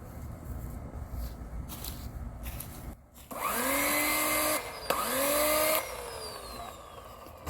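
An Oregon CS1500 18-inch electric chainsaw cuts wood in two loud, close bursts, each starting with a rising motor whine and then a steady roar, with a short pause between them and a lower motor hum before.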